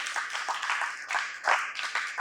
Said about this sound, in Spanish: Denle un aplauso a Paloma